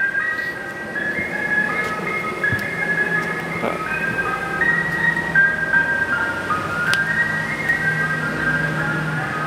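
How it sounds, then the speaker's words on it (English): An ice cream truck's tinkling chime melody plays at moderate distance, steady throughout over a constant outdoor background hum. "I hear the ice cream man."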